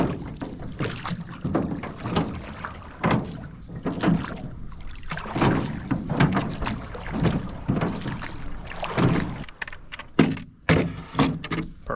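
Paddles stroke a rowboat across a Florida lake, steady rhythmic splashes and wooden knocks close by, with wind buffeting the microphone and no speech.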